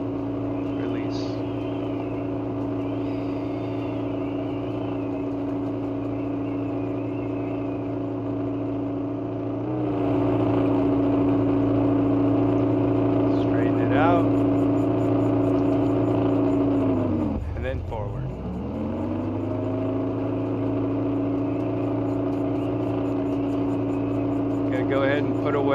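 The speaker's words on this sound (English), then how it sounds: "And then I'm going to put some pressure on the engines." Boat engines hum steadily while docking under power, a low droning tone that rises in strength partway through and briefly sags and recovers, with someone talking over the engines.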